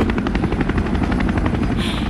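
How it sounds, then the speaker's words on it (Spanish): Helicopter in the video game Resident Evil 3 Remake, a loud steady rotor chop with rapid rhythmic blade thumps running throughout, no talk over it. "el helicóptero está por ahí"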